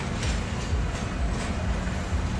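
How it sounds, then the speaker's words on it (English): A small amusement park ride train at Luna Park in Ayia Napa, Cyprus rumbles along with a steady low rolling clatter amid outdoor park noise, moderately close and continuous. "There's a bit of a train going up there."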